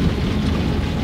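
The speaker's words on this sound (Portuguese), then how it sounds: "Muita chuva" Heavy rain pours down steadily outdoors on a farm, a dense, unbroken wash of close, loud rainfall with no break.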